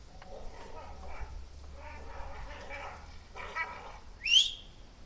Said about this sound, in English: You can hear the dogs in the background probably.